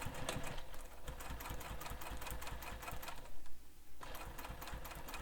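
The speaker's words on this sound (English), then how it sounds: "Now we're going to top stitch around the entire flap using the seam allowance given in the pattern." A sewing machine topstitches around a bag flap, running in a fast, steady mechanical rattle with a brief pause before resuming, close and clear with no talk.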